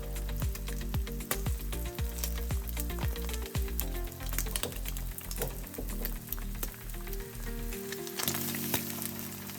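Eggs fry in a pan for a quick breakfast sandwich, a dense continuous sizzle and crackle with a few scraping taps from a utensil, heard up close without talk.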